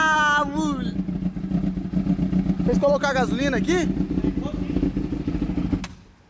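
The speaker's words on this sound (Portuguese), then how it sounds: "Eu quero ver se tá ligando minha moto" A Honda Hornet motorcycle engine runs close by with a rough, sputtering rumble under a person talking, then cuts out abruptly near the end, leaving near silence.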